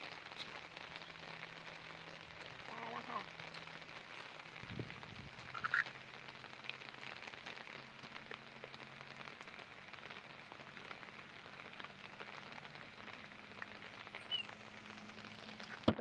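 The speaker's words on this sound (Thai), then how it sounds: "ฝนตกหนัก" Steady, dense heavy rain pours throughout during flooding in Yala, Thailand, with a broad hiss, a low rumble underneath and a few brief louder splashes and clatters.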